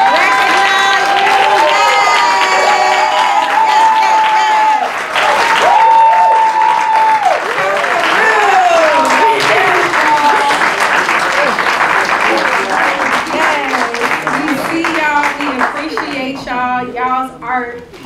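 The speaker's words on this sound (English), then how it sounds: "can you please stand so that we can just clap for you, recognize you" Audience at a talk on Black music and sonic healing arts applauding exhibition artists: sustained loud clapping and cheering fill the room while a voice rings out and speaks over it, the applause thinning toward the end.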